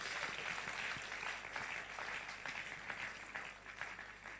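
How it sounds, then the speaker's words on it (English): Crowd clapping at a Nigerian political gathering of Peter Obi supporters. Dense, continuous applause from a sizable group holds at a steady level throughout, with a faint low hum beneath. "Obedience, clap for yourselves."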